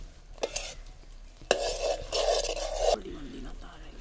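Jaggery syrup bubbles in a pan while a spoon stirs and scrapes it, making short bursts of sizzling and scraping with a few sharp clinks against the metal.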